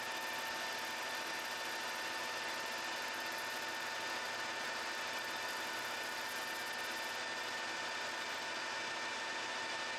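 Steady machine whir of a lathe drilling a hole in a metal fixture with the tailstock, a constant even hum throughout at moderate level, no voices.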